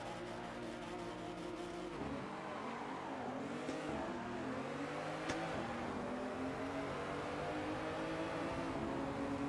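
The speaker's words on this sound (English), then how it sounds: "Not the most satisfying car to sound on the limiter" A race car engine in the Assetto Corsa racing game revs high and bounces off the rev limiter, a loud buzzing drone that shifts in pitch through gear changes, with no talk.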